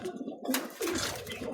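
A pet pigeon coos in a few low, throaty bursts close by, with someone talking in between.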